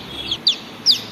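A brooding hen sitting on eggs makes three short, close, high clucking calls, evenly spaced over about a second.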